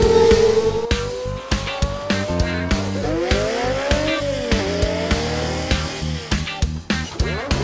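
Race cars at the Autódromo Ciudad de Rafaela in Argentina, loud engines revving and shifting up through the gears as they pass close by, with layered high-pitched whines rising and falling in quick succession and no talk.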